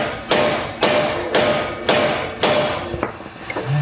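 Hammer blows striking a stuck Pitman arm that has been cut through, about six loud metallic strikes at a steady pace, close and sharp with no talk.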